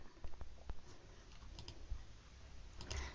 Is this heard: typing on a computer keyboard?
yes